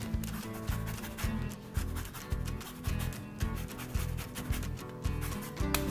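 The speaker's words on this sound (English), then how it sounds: "Now I'm going to scrape down what's left on my zester, make sure we get everything in there." Rhythmic scraping of orange and lemon zest off a metal zester, repeated rasping strokes at a steady pace, close and fairly loud with no talking.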